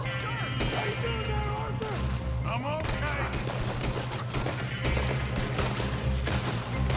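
Gunfire in the Western video game Red Dead Redemption 2, with a shotgun among the weapons: loud, dense bursts of shots and crashes, with someone talking over the action.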